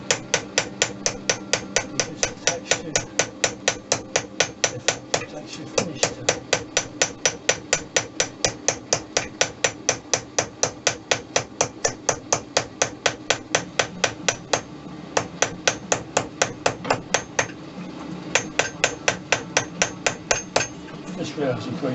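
Steady, rapid metal hammering on a small piece of silver along a seam, dozens of sharp ringing strikes in a fast regular rhythm with brief pauses, close and loud.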